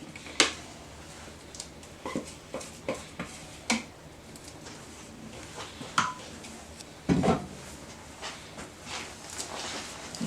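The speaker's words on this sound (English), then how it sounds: "then you can take your spatula and spread it around" A spatula spreads a low carb, sugar free pudding cake layer out from the center over a crust, giving soft scraping strokes and light taps against the pan, close and fairly quiet, with no talking.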